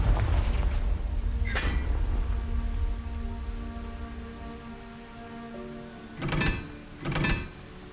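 Confringo fire-blast spells in Hogwarts Legacy, a burst early on and two more near the end, each a short rushing whoosh-boom over a steady, rain-like game ambience.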